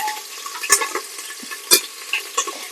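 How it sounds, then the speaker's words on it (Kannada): Onions frying in a pan for mushroom biryani make a continuous crackling sizzle, with sharp stirring clinks and scrapes at irregular moments, close and fairly loud with no talk. "ಆನಿಯನ್ ಎಲ್ಲ ಫ್ರೈ ಮಾಡಕ್ ಹಾಕಿದೀನಿ"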